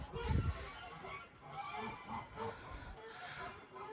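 Faint honking quacks from a few ducks nearby, with soft rustling and murmuring in the background.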